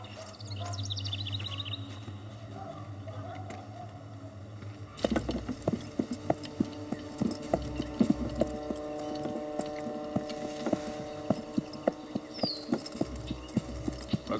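A horse pulls a cart in a Russian film scene, its hooves clip-clopping in a steady trotting rhythm that begins partway through after a quieter stretch, heard fairly close with no talk.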